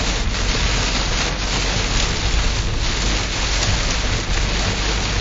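Hail pounding a car during a violent storm on a road in the Lublin region, a dense, constant, loud roar of hard pellets striking the body and windshield without a break.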